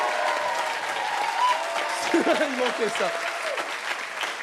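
Audience applause for actor François Berléand at a French event, continuous clapping under a brief spoken remark and a few whoops from the crowd.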